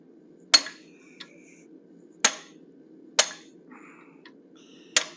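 A hammer strikes a 3/16 inch fuller on hot steel while forging a cougar head, four sharp ringing metallic blows spaced unevenly, close and loud, with faint lighter taps and clinks between them.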